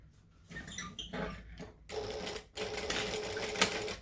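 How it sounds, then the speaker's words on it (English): A sewing machine top stitching a sling bag runs in steady rapid bursts, a short run first, then a pause and a longer continuous stretch of close mechanical stitching. "I'm gonna bring back both sides and I'm gonna top stitch"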